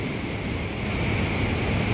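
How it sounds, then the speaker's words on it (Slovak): Big sea waves surge against the northern Sicily coastline in a steady, dense roar, with wind buffeting the microphone throughout the brief stretch and no voices. "Parádne obrovské vlny."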